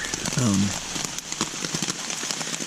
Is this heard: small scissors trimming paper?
no